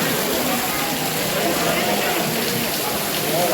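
Steady rain falls hard and continuously on the hill road at Chotila in Gujarat, a dense, even hiss that fills the whole moment with no voices.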